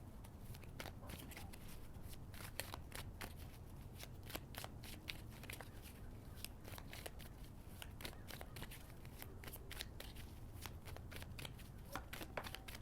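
Tarot cards are shuffled steadily for about thirteen seconds, a dense run of soft papery riffles and flicks close by at low volume, over faint background noise.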